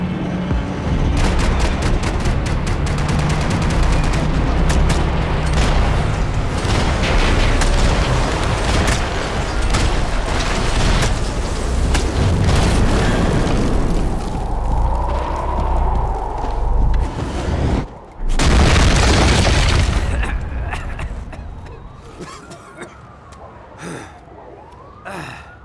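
Gunfire and explosions in the video game Max Payne 3, a dense barrage of loud shots and booms with a siren-like wail, then a heavy blast and fading rumble.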